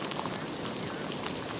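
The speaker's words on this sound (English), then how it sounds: "And Angelina, we can just see that rain and those winds whipping you around down there." Steady rain and gusting wind from Hurricane Helene in Valdosta form a continuous, fairly faint wash of noise with no pauses.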